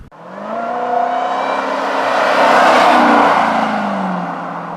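A Mercedes-Benz GLS 580 SUV driving, a strong steady engine roar that swells and holds with a rising pitch as it accelerates, loud and close with no talk.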